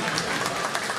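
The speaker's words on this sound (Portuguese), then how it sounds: "Uma salva de palmas pro André" Audience applause at a stand-up comedy show at a country club, a dense steady wash of clapping filling the short moment on its own.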